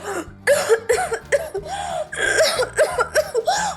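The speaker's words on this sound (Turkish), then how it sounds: "Hadi biz de öksürelim mi?" People cough together on cue during a children's storytelling session, a string of short voiced coughs in quick bursts mixed with light chuckles, close and fairly loud.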